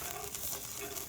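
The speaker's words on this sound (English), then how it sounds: "just going to stir this around in the pan, medium-high heat" Cabbage in teriyaki sauce sizzling in a pan over medium-high heat and stirred with a fork, a soft, steady hiss that stays faint and continuous.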